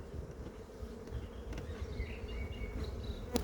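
Honey bees hum around a beehive in a dense, close buzz that runs steadily throughout, with a few louder passes near the end.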